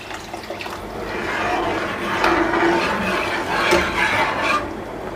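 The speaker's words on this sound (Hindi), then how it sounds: "मैं डाल दूंगा इसके अंदर 1 कप पानी," Water pouring into a pot of semolina for halwa, a steady close splashing flow that swells gently toward the middle and then tapers off, with no one speaking.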